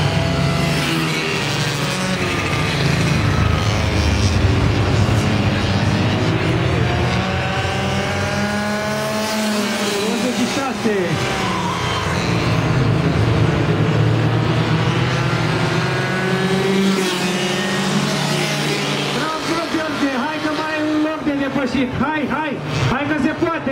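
80 cc racing motorcycles scream through a race in Iași, engines revving loud and continuous as bikes rise and fall in pitch, with a voice commentating excitedly over the noise.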